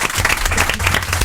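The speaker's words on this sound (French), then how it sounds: "Est-ce qu'on peut l'applaudir?" Loud, steady applause from an audience, dense clapping filling the whole moment without a break.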